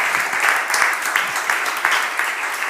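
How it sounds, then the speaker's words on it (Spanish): Audience applause follows the end of a talk at an AI business event, with dense, fairly close clapping and some voices mixed in. "Un aplauso."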